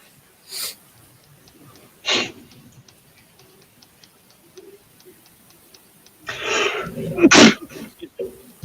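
A person sneezes several times indoors, with short bursts spaced a few seconds apart and a louder, harsher final sneeze, over a faint steady ticking in the background.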